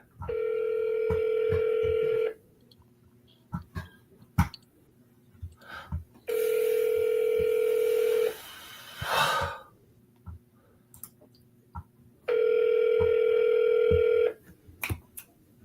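Three phone ringback tones sound during an outgoing call: steady electronic bursts of about two seconds each, spaced roughly four seconds apart, with faint breathing and small noises in between.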